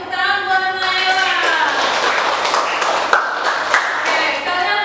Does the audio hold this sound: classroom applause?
yes